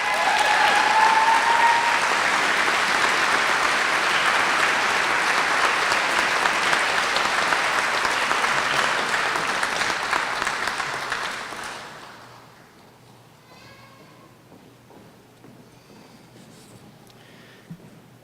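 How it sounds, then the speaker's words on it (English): An audience at a 2019 high school graduation gives a loud, sustained round of applause for a citizenship award recipient, which fades out after about twelve seconds into a quiet hall. "Please join me in applauding our female Coffrin Citizenship Award recipient, Ashley Liddell"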